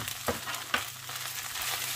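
Chicken with vermicelli and cheese sizzles in a pan while a utensil stirs it in a few distinct scraping strokes over a continuous frying crackle.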